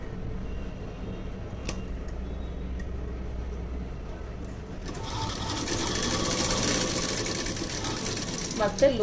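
A sewing machine stitches lining fabric to the main fabric with a steady mechanical whirring that grows louder and busier partway through, close and continuous.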